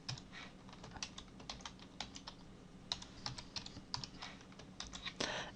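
Keys clatter on a computer keyboard as someone types an HTML head tag, a steady run of close, crisp clicks with brief pauses, alone without talk.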